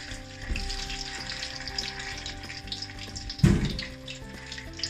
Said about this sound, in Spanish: Vamos a dejar que se fría bien todo esto